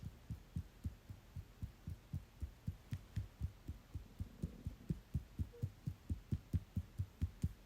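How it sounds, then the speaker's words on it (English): Fingertips tap on the collarbones in a quick, even rhythm of soft, dull thumps, close and quiet against a faint background hiss, with no speech. "that's the sound of me tapping my collarbones"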